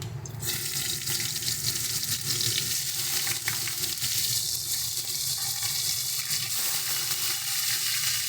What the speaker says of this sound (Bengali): এবার আমরা এর মধ্যে পেঁয়াজ বাটাটা দিয়ে দিচ্ছি।